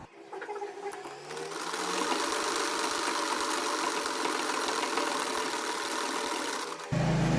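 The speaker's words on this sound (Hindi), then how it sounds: "इसी तरह मैं दूसरी वाली को भी सिलाई लगाऊंगी" A sewing machine stitches a baby frock, its motor whirring up and then running steadily at close range for several seconds before a sudden low thump at the end, with no talking.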